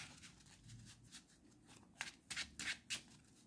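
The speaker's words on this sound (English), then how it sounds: "Let's shuffle again" Playing cards are shuffled close up, a soft riffle building to several crisp, rapid bursts of flicking cards.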